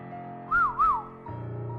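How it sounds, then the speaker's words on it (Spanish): A short, eerie two-note whistle rises and falls twice over a quiet low hum, clear and fairly close. "un inquietante silbido rompió el silencio"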